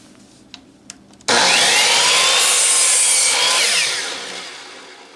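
A handsaw cuts a small chunk off the end of a wooden 2x4 block in a loud, steady burst of rasping strokes that fades toward the end, after a couple of faint knocks.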